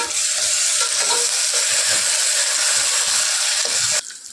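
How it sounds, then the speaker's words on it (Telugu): Ginger garlic paste fries with onions in a hot pan, a loud, continuous close sizzle with faint scraping from stirring that drops off abruptly near the end; there is no talking. "అల్లం వెల్లుల్లి పేస్ట్ యాడ్ చేసుకొని పచ్చి వాసన పోయేంత వరకు బాగా ఫ్రై చేసుకోవాలి"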